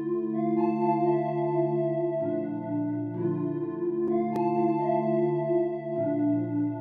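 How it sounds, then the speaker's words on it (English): A hollow synth pad from the AX collection in ZENOLOGY plays a slow, repetitive sustained chord progression, with soft swelling held tones that change every couple of seconds and no voices. "I start off with this pad in ZENOLOGY, the hollow pad in the AX collection, and I made this MIDI with it right here."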